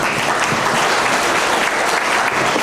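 Audience at a school admission information session breaks into loud, dense applause, a steady wash of many hands clapping close by with no pauses.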